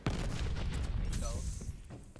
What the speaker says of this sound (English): Shotgun blaster.